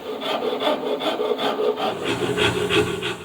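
Steady rhythmic rasping of a coarse rasp scraping across maple wood, repeated strokes up close with no talking.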